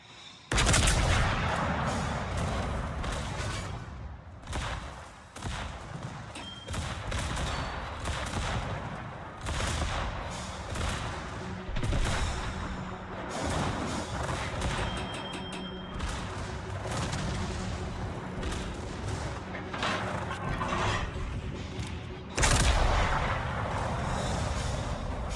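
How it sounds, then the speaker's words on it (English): Naval guns of the warship Leon fire in World of Warships, a dense run of heavy booming shots over a continuous roar of battle, with louder blasts punching through at intervals. "Is the Leon shooting me?"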